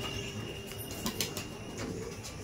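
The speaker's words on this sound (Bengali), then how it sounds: "এক বিঘত সাইজের পায়রা" Pigeons coo softly in a loft, low murmuring calls with a brief flutter of wings amid a steady background hum.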